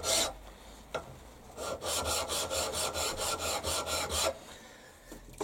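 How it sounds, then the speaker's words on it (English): A hand file stroking a metal surface flat, a few scattered rasps followed by a quick regular run of about ten close, loud back-and-forth strokes that then stop. "So once I've filed it flat,"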